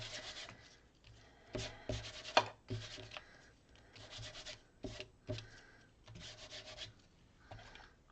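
Piece of frayed burlap swiped repeatedly across paper to apply Distress ink, a series of close, dry rubbing strokes in an irregular rhythm with short pauses between them.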